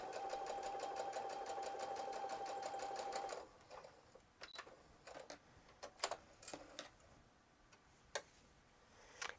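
A sewing machine stitches a fabric mask in a fast, even run of needle clatter for about three seconds, then stops, leaving scattered clicks and handling taps.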